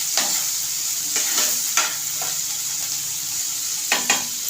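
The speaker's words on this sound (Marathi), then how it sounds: "मी कांदा घालते याच्यामध्ये पूर्ण घालते चांगलं आपल्याला करून ब्राऊन करून घ्यायचं" Chopped onion sizzles and fries steadily in a pan for egg tawa masala gravy, a continuous hiss broken by several scraping stirs of a spatula, close and fairly loud with no talking.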